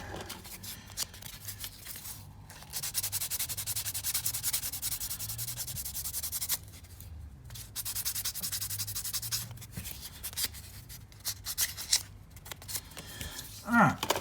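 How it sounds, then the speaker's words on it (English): Sandpaper rubs down a glued plastic joint on a rotating-waist action figure mod, close, steady scratchy strokes running for long stretches with short pauses between passes. "I'll just come in with my sandpaper. Let's get rid of that glue joint."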